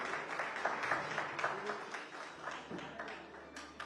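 Steady, moderately loud applause from a seated audience welcoming a guest onto a news event stage, sustained clapping throughout with faint voices mixed in.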